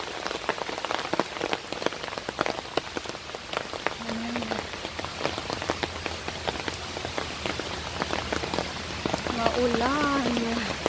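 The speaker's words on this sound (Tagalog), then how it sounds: "Ulan." Steady morning rain patters on surfaces nearby in a park, with scattered louder drips, and a brief voice-like tone near the end.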